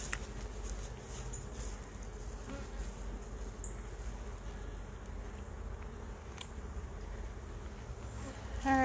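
Honey bees swarm around a roadside hive, making a continuous, even buzz of many insects at close range, with little else heard.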